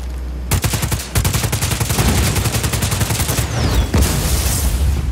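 Rapid automatic gunfire aimed at a generator in Just Cause 4, loud and close, a fast rattling stream of shots with a brief break, then a renewed barrage continuing to the end.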